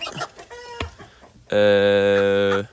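A hen on a poultry breeding farm gives a few short, close clucks, then a loud, sustained cackling call near the end, with no talking.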